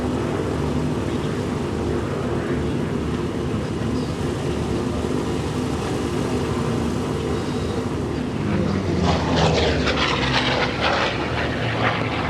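Vintage aircraft, including a Junkers formation, taxi at the Flying Legends airshow at Duxford, their propeller engines making a loud, steady, rumbling drone that swells slightly toward the end.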